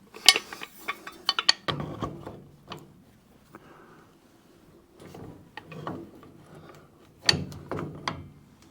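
A large spanner works a fitting on a log boiler system pump, with irregular metallic clanks, ratcheting clicks and scraping in short bursts, fairly close, with quiet pauses between efforts.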